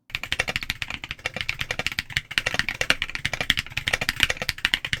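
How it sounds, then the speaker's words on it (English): Typing on an MKC75 aluminium keyboard with MMD Princess Tactile 60-gram switches and MT3 Dusk keycaps gives a fast, continuous run of close, crisp, clacky keystrokes with no talk. "So I chose a set of MMD Princess Tactile 60-gram switches and MT3 Dusk, one of my favorite keycap profiles, and of course, I also recorded a sound test"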